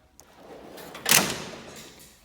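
A tool cart drawer slides open with a single smooth rolling rush that swells quickly and then fades out.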